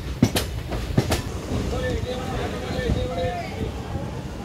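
A Saptagiri Express passenger train rolls along the rails with a steady rumble and a few sharp wheel clacks over rail joints near the start, heard from close by at the carriage door, with faint voices in the background.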